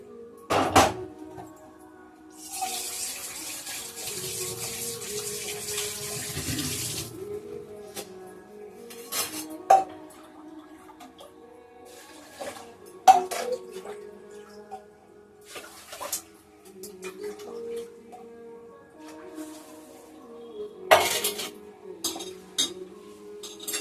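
Ration rice washed in a pot of water: sloshing and swishing with scattered clinks and knocks of the pot and utensils, a longer stretch of running, splashing water early on, then intermittent clatter.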